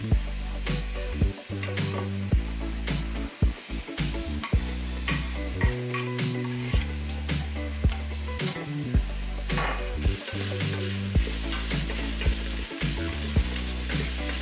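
Garlic frying with onions and meat residue in an Instant Pot, a close, steady sizzle broken by frequent scraping and knocking stirring strokes against the pot, with no talking.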